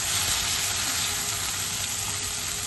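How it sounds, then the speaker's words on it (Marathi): Finely chopped tomatoes sauté in oil in a pan over low heat. A steady, close sizzle hisses without a break and no voices are heard. "आता त्याला मंद आचेवर तेल सुटेपर्यंत परतूया."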